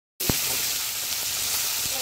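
Potatoes frying in a pan, a close, steady sizzle that starts abruptly and continues unbroken, with a few soft knocks of stirring mixed in.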